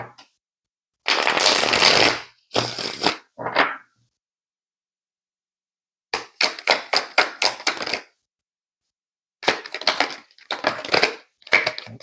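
Tarot cards being shuffled in crisp, rapid riffling bursts, close and fairly loud, coming in several separate rounds with silent gaps between them and no talking.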